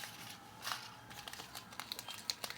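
A small plastic package is opened by hand with close, quiet crinkling, starting with a brief rustle and then rising into a rapid run of sharper crackles toward the end.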